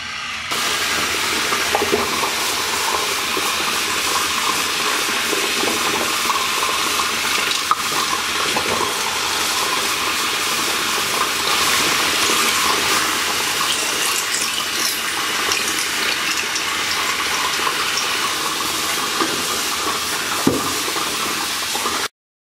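A Smart Toiletries water flosser runs in a steady, continuous watery hiss with spray and splashing, close and fairly loud, holding without pause for around twenty seconds with no talking.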